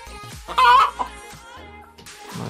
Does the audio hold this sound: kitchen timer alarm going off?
no